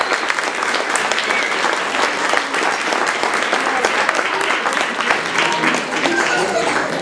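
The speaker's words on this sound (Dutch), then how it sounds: "En een applaus natuurlijk voor mij." An audience at an Easter school piano performance event claps in continuous, even applause at a fairly loud level for several seconds.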